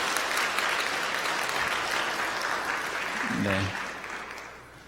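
A church congregation at a Sunday service applauds in welcome, dense steady clapping that fills the room and then tapers off, with a brief voice heard near the end.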